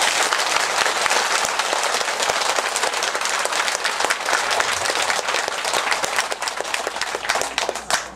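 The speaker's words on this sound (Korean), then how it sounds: "그 거사님들을 위해 가지고 박수 한번 크게 쳐보세요." An audience at a Buddhist Diamond Sutra lecture by Professor Kim Seong-gyu gives a long round of applause: many hands clap in a dense, steady patter that holds for several seconds without speech.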